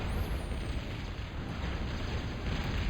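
A massive energy storage blast in Total Annihilation Escalation, a dense, sustained low rumble rolling evenly for a few seconds with no talk over it.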